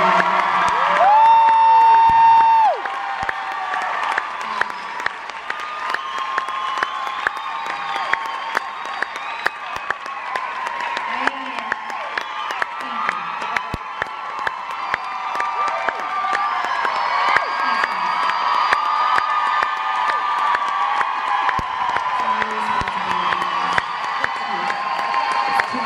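A concert crowd at the Paramount Theatre applauds and cheers for a performer, sustained clapping with whoops and shouts rolling through the hall after a brief spoken line at the start.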